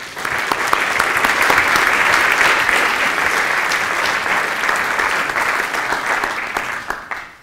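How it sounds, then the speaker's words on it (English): Warm, sustained applause from an audience at a school open evening welcoming student speakers, a thick wash of clapping that holds steady for several seconds and then tails off. "So if you would, a warm round of applause."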